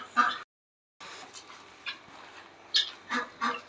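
Chickens and roosters in a garden, with a few short squawks and clucks at a moderate distance, scattered irregularly over quiet background noise.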